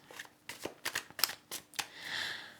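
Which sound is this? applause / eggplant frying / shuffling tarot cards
shuffling tarot cards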